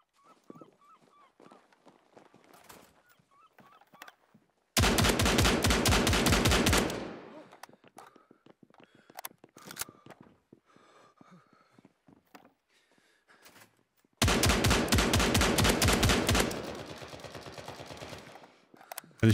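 Loud automatic gunfire from the World War II shooter United 1944 comes in two long sustained bursts, each lasting a few seconds, with quieter game sounds and brief shots between them.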